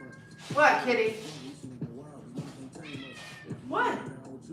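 Indoor house cat meowing several times in drawn-out, rising and falling calls, close and fairly quiet, with a person speaking softly in between.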